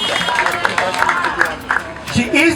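An audience claps and chatters in a hall, with scattered hand claps under a nearby voice and general babble throughout.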